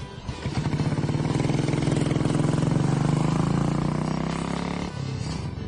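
Royal Enfield Bullet motorcycle, a 50-year-old design, its single-cylinder engine thumping steadily and rising in a smooth pull before easing off, close and alone.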